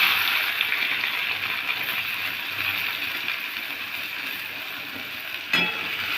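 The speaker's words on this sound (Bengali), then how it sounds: "ফোড়নে দেওয়া হলো শুকনো লঙ্কা আর গোটা জিরে, পেঁয়াজ" Dried red chilli and whole cumin sizzle in hot oil with a steady, close hiss that fades only slightly, and a brief clink sounds near the end.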